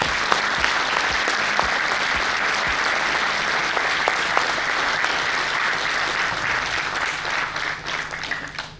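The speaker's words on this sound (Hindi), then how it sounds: "तो एक तालियां पेरेंट्स के लिए भी बनती है यार" Audience at a felicitation and success party for bankers claps for the parents, a dense, loud wash of applause with sharp individual claps standing out, holding steady for several seconds before easing slightly.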